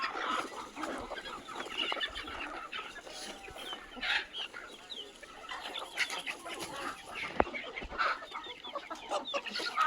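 Free-range desi village chickens cluck steadily on a farm, with overlapping calls and short squawks scattered over ten seconds of outdoor bird chatter.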